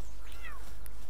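Cat-like creatures in the video game Palworld give a couple of short rising meows, close and clear over a steady low hum, followed by a brief high chime.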